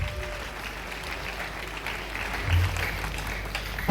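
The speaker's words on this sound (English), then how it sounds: "Let's give a big round of applause." A crowd applauds during a governor's public speech, a moderately loud wash of clapping that holds steady and swells slightly near the end, with some voices mixed in.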